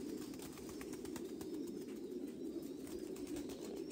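Thai Titan pigeons cooing steadily in a farm loft, a continuous low murmur of many birds with faint flutters, heard at a moderate distance with no voices.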